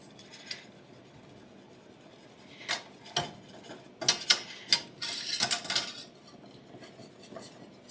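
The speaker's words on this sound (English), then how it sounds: "And then I'm just gonna whisk that around." A whisk stirring a flour paste in a pan makes scattered metallic clinks and scrapes, sparse at first and then a denser, quicker rattling burst in the middle before tapering off.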